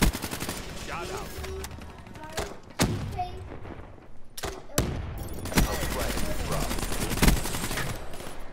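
Rapid gunfire during an online Call of Duty Black Ops III match, sharp automatic bursts and scattered shots over game music and effects, with a player talking in between.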